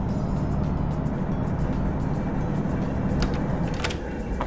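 A diesel railcar engine in Diesel Railcar Simulator throttles up as a steady, loud low-pitched drone with a rumbling, continuous tone throughout, with no talking.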